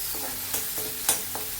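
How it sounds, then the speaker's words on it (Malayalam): Crushed garlic and shallots fry in hot oil with a steady close sizzle, broken by a few quick stirring scrapes. "എണ്ണ ചൂടായി. നമുക്ക് ഇതിലേക്ക് വെളുത്തുള്ളി, ചുവന്നുള്ളി ഇങ്ങനെ ചതച്ചത് ഇട്ട് കൊടുക്കാം കേട്ടോ."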